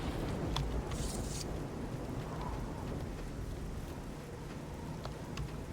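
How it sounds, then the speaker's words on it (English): Rain falls as a soft, steady hiss with a faint low rumble of thunder in the Oblivion video game, with no speech. "It's raining."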